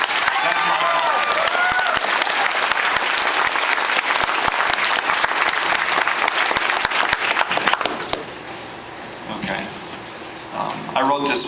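A large audience at a graduation speech bursts into sustained applause for about eight seconds, then it fades out and a voice begins speaking.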